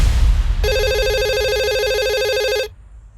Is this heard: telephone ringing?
yes